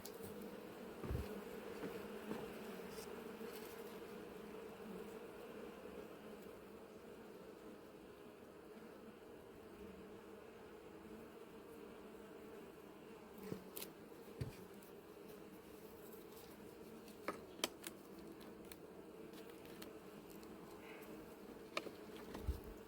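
Wasps or bees buzz continuously around beehives at an apiary, a steady droning hum with a few sharp closer passes and taps near the end, with no talking.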